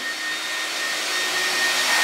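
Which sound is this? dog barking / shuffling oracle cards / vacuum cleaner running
vacuum cleaner running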